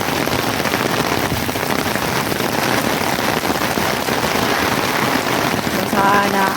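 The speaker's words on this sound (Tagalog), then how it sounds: "Pinakamasaya na ulan dito sa Macau." Heavy rain pours down in Macau, a loud, dense and continuous wash of drops hitting nearby surfaces, steady throughout.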